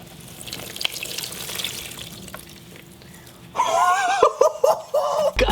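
Water poured onto soft glitter foam, a steady wet pouring and fizzing that swells loud partway through, with short squishy bursts and gaps as it soaks in, close up and alone.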